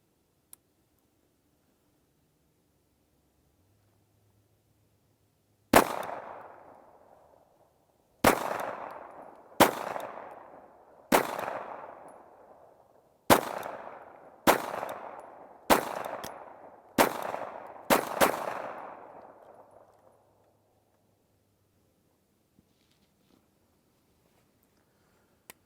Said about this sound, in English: when you start shooting these larger format pistols like the TP9